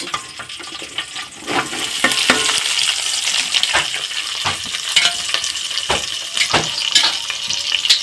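Curry leaves and green chilies sizzle and crackle in hot oil in a pan, a close, busy frying hiss broken by repeated sharp pops and spoon clatters throughout, with no voices heard.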